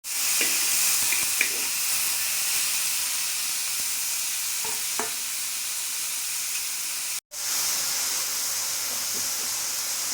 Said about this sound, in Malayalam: കറിവേപ്പിൻ്റെ ഇല ഒക്കെ കൂടി എണ്ണ ചൂടായപ്പോൾ അതിലേക്ക് ഇട്ട് കൊടുക്കുകയാണ്